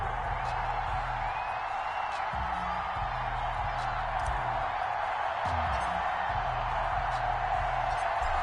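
Stadium crowd in a PS4 football video game roars steadily through a Baltimore Ravens versus Jacksonville Jaguars matchup, a dense continuous wash of cheering with low thudding tones underneath.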